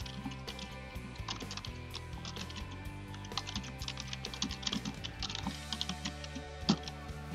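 Steady typing on a computer keyboard, a quick irregular patter of key clicks heard up close over a soft hum, with a slightly louder strike near the end.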